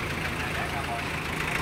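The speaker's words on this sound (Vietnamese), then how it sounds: "Máy dân dùng mà tiếng máy nổ rất là đã luôn nha" A Kubota L2802 tractor engine fitted with a tiller runs steadily close by, a continuous low throbbing idle with rough knocking texture, partly masked by talk.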